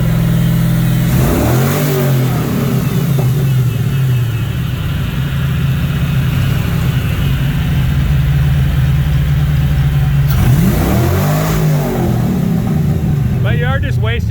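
A loud Fox Body Ford Mustang engine idles with a deep rumble and then revs up sharply twice, the pitch sweeping up and down each time, close by.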